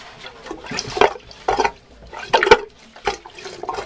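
A Jabsco manual marine toilet being hand-pumped and flushed: a series of wet, sloshing gurgles come in rhythmic bursts with each stroke, close and moderately loud, with no talking.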